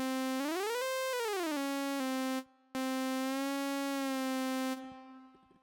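Bright buzzy synth oscillator in the Vital synth, its pitch swooping up and back down, then holding steady before a brief cutout, then drifting slightly with fine tuning before fading.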